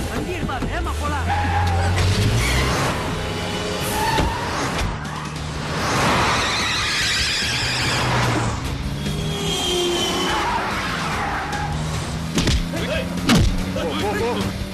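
A car in a Tamil movie scene pulls away fast, engine roaring and tires squealing amid thumps and shouted urgent voices, loud and close throughout the fourteen seconds.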